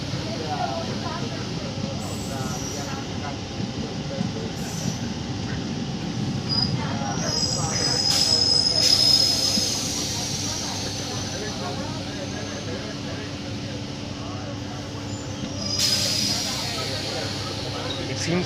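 An Indian Railways MEMU train slows on the rails near SGT, its steady rumble and clatter filling the clip, with a high wheel squeal rising briefly near the middle and again toward the end, and faint voices underneath.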